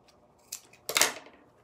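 Scissors snipping through twine close up, with a small click followed by a sharper, louder cut that trails off, otherwise quiet.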